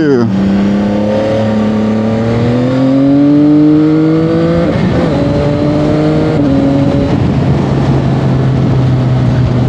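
A CF-Moto 675 SR-R motorcycle on the road, its engine note climbing steadily through the revs before easing off and settling, loud and close, with a rider talking over it.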